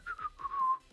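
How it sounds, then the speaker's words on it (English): A short, innocent-sounding whistled tune from the video game Blue Archive, a few bright rising-and-falling notes that end in one held tone, clear and alone with no talk. "Whistle innocently."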